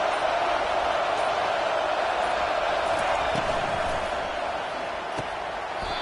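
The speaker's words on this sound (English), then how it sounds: "This crowd, full throat, splitting the eardrums and letting them know it's going to be a long day." A packed stadium crowd at a football game roars in a continuous, dense, loud wash of voices that holds steady and eases slightly toward the end.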